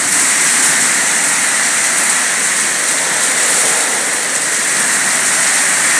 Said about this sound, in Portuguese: Muita chuva, muito vento.